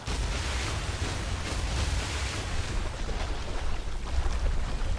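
A Triceratops swims through water in the survival game The Isle, giving a continuous wash of splashing and sloshing with a windy rush, steady and fairly loud, with nobody talking.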